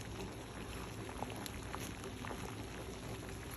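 Eggs boiling in a pot of water, a faint, steady bubbling rumble with light patter, short and close.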